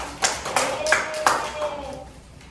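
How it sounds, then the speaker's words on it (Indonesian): A short round of hand clapping, four or five sharp claps at a brisk pace, fairly close, in a primary school teacher-training classroom with faint background murmur. "Iya, tepuk tangan."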